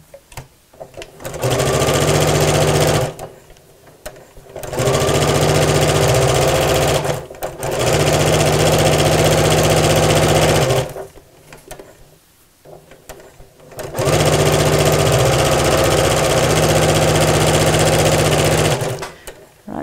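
A sewing machine stitches small fabric pieces for a twisted tote bag, running loud and close in three long steady bursts separated by short pauses.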